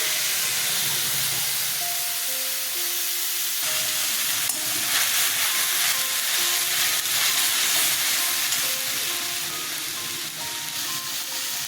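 Ginger, chili and tomato paste sizzle steadily in a hot pan for a vegetarian potato and pointed gourd curry, a continuous close hiss and crackle that swells slightly midway, with no talking.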